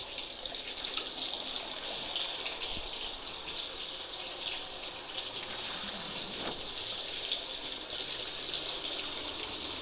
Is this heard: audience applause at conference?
no